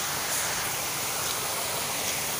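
A pretty waterfall at a garden café pours with a steady, loud, broadband rush that holds constant throughout, with no voices over it.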